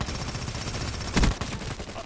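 Rapid gunfire in a shooter video game, a fast rattling stream of shots at moderate volume with one louder, heavier shot near the middle.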